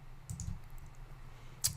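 A few faint clicks of keys on a computer keyboard while a name is typed, sparse and quiet, with a sharper tap near the end.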